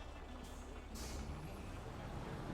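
Truck air brake in the SnowRunner game: short pneumatic hisses burst out twice in quick succession over a steady engine rumble, with faint speech in the background.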